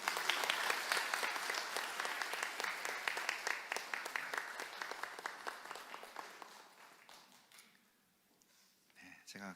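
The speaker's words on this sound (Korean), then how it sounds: "우리 박수로 한번" A church congregation applauds during a Sunday worship service, a dense round of clapping that holds steady and then fades away over several seconds, followed by a brief sound at the end.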